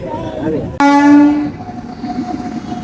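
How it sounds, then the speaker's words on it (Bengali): A train blows a loud, sharp horn blast as it nears a busy railway level crossing in Rajasthan while a crowd waits at the lowered gate. A rumbling rail noise and a bustle of crowd voices follow the horn. "ট্রেন আসবে আর গেট পড়ে রয়েছে সেখানে"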